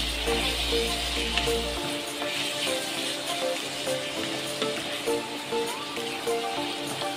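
Tomato pieces sizzling in a pan for bean curry, making a continuous, crackling fry with light popping. A low hum drops out early on, and the sizzle carries on steadily and fairly loud.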